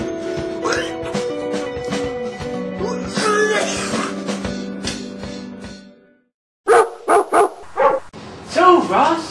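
A man imitates a dog barking, a quick run of four or five loud, close, yelping woofs after a pause, with people talking before and a voice afterwards.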